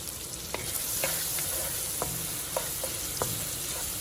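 Jamaican seasoning, including sweet pepper, garlic and tomato, sizzles and fries steadily in a pot, with occasional clicks and scrapes of stirring over the continuous hiss, close up and without voices.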